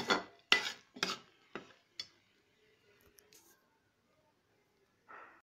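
Sugar syrup for coconut jaggery balls being stirred in a pot, several sharp scraping and clinking strokes in a quick rhythm, then quiet and one last scrape.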